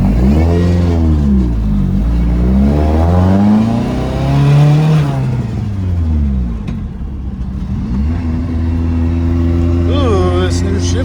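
A car with a new shifter revs hard while driving, the engine rising and falling in pitch with gear changes, and transmission whine runs underneath, loud and close inside the cabin.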